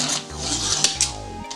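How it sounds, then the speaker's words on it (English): A utility knife scoring repeatedly through copper-clad fiberglass board, close rasping scrapes with a few sharper strokes in quick succession. "just start eating away at it with the utility knife"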